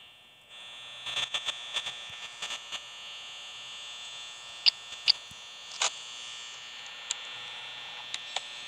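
Steady electric hum of an office fan in Five Nights at Freddy's, a constant buzzing drone with a few faint clicks and ticks scattered over it, no talking.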